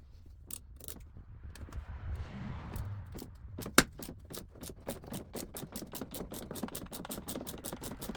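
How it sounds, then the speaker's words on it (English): A screw being loosened and removed from the headlight of an Audi A5 B8 during a xenon bulb change: quiet close clicks that grow into a quick, even train of ratcheting ticks, with one sharper snap partway through. "We begin with the first screw. Carefully loosen and remove it."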